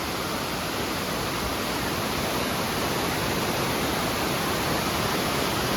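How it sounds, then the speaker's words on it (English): A waterfall beside the steps on the Appalachian Trail pours as a constant, dense rushing roar, close and unbroken, with no voices over it. "And this is the waterfall here"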